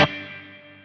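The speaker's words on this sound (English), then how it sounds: "Really nice hall reverb for sure." A single guitar note or chord played on a clean tone through a Mooer Prime P1 hall reverb, struck sharply and then left to ring in a long, smooth, spacious tail that fades slowly without any talk.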